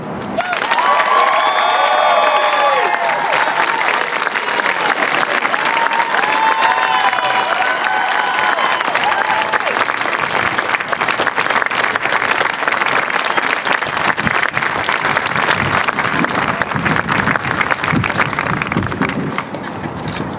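Loud, sustained applause and cheering from a crowd at an anti-bullying bill signing, continuous clapping with a few shouts and whistles throughout.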